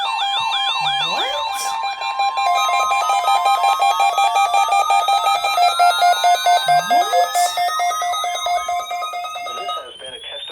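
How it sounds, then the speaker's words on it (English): NOAA All Hazards weather radio emergency alert test tones, loud steady electronic alarm beeps with warbling and rising tones throughout, while a voice briefly exclaims over them. "This has been a test of the NOAA All Hazards weather radio alarm system."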